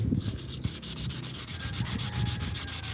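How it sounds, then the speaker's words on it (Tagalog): Sandpaper rubbed by hand over a rusty motorcycle part, a close, steady back-and-forth scraping with quick regular strokes and no talking. "ginagamitan na natin siya ng liha pero hindi pa rin tatanggal"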